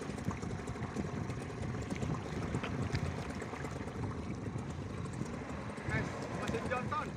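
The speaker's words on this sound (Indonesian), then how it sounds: "Mesin Johnson." A Johnson 3.3 HP outboard motor pushes an EVA foam canoe, its steady droning hum blending with water wash throughout, with voices talking over it.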